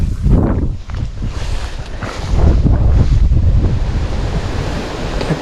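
Strong wind buffets the microphone in heavy, continuous gusts, with a rumble like surf or water beneath, at a water-lily-covered fishing spot.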